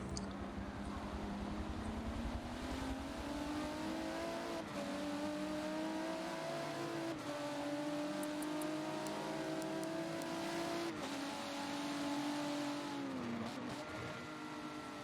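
Race cars lapping Brands Hatch in a sim racing game, their engines droning steadily with rising and falling pitch as they accelerate and shift, layered with tyre and track noise throughout.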